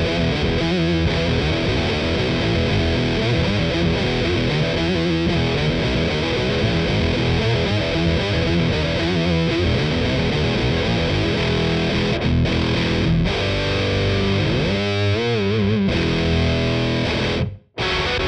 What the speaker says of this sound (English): There's also an octave plus dry setting, which doubles your signal with an octave below for fat guitar meets bass sounds.